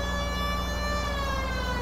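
A steady electronic police siren tone in the video game L.A. Noire holds continuously over a low engine drone, loud and close.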